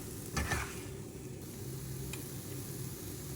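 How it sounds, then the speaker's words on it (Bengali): Soft, steady sizzling of paratha frying in oil, with a brief stirring scrape near the start; quiet and close, no voices. "কীভাবে মচমচা পরোটা ভাজা যায়"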